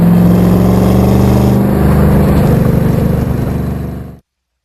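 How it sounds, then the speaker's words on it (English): Corvette engine burbles loudly and steadily through its exhaust with a deep, throbbing rumble, sustained up close before cutting off abruptly near the end. "And that sound from that exhaust is just so sweet too."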